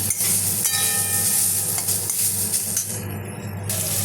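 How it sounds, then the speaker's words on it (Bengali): Mixed greens fry with onion in a pan, a steady close sizzle with occasional stirring scrapes and a low hum underneath, no talking. "এদিকে আবার পেঁয়াজ দিয়ে পাঁচ শাক ভাজা বসিয়েছি।"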